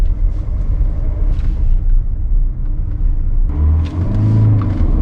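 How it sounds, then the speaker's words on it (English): A 2021 Hyundai Venue SX front-wheel-drive engine idles with a deep rumble, then revs up sharply near the end at launch with a rising, strained roar. "Let's launch the car and give a throttle once."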